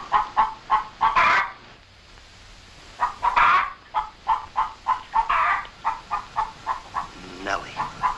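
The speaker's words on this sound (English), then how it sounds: "Lay, hen, lay." A hen clucks in a rhythmic series of short, close calls, with a few louder squawks and a brief pause midway through.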